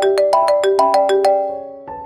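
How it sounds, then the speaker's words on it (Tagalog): A telephone ringtone used as a sound effect in a narrated audio drama, a loud, bright electronic melody of rapid repeated tones that fades, then starts again briefly, with no voice over it. "Tumigil sandali ang pagring ng telepono."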